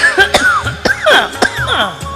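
A man coughs and clears his throat during a staged Hindi folk-tale performance: three or four rough, voiced bursts with groaning tones between them, close and fairly loud.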